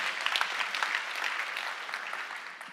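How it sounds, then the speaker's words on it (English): Audience applause at dotJS 2024, a JavaScript developer conference: a large crowd clapping steadily and densely for a few seconds, close and fairly loud, then starting to ease off near the end. "Round of applause just for being back for dotJS."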